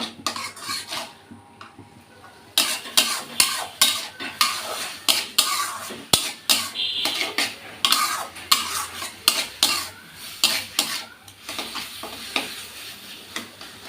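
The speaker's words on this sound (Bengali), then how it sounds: "আমি এটা দিয়ে সুন্দর করে শাকটা মিশিয়ে নেব" Taro greens being mixed with almond paste in a pan, heard as loud rhythmic scraping and clinking of a utensil against the pan over a light sizzle, after a quieter opening of a few seconds.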